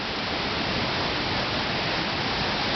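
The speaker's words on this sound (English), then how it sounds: "listen for the sound of the water" Continuous rushing stream water fills the air in the Great Smoky Mountains, a steady broadband hiss with no breaks or voices.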